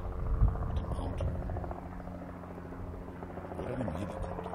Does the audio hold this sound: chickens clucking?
no